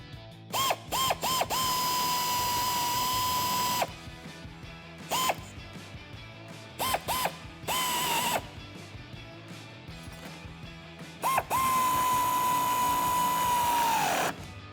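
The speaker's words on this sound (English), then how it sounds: "We're gonna tighten these down for now." Ratchet tightening fender flare bolts on a 2015-2017 Ford F150, heard as several short bursts of rapid clicking, each followed by a sustained whirring whine, all close up.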